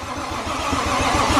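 A Toyota 1JZ engine, freshly installed in a car, cranks and catches, its low rhythmic chugging building into a steady, loud running note that holds close and continuous without any talk.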